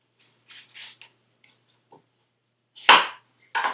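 A knife cuts the ends and a bad spot off onions on a board, giving a handful of sparse, quiet slicing scrapes and one sharper chop near the end, close-up with no talk.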